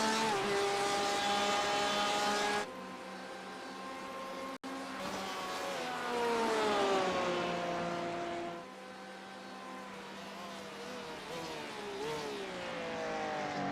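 Porsche race car in a sim racing game at Suzuka, its engine screaming at high revs. Loud and close, with sharp drops in pitch at gear changes and braking and rising pitch as it accelerates through corners. Almost no talking.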